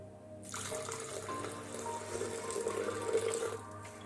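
Water is poured from a vessel into a mixer jar holding curd, a steady splashing stream that runs for about three seconds, close and fairly loud, with no talking.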